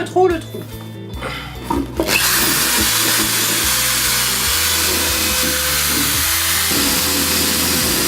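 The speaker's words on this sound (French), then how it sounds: "on peut faire passer la perceuse de trou en trou pour finir le trou" A power drill bores holes in wood while cutting a speaker opening for a DIY boombox. Brief handling knocks come first, then a loud, continuous whirring grind with shifting motor pitch runs to the end.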